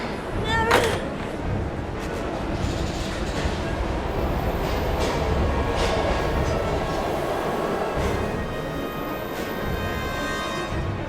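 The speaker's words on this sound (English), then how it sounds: "We've gotta get on that train, Ethan." A video game train in Heavy Rain rumbles steadily with a dense, low roar and faint rhythmic clatter, a brief higher squeal near the start, sustained and fairly close throughout.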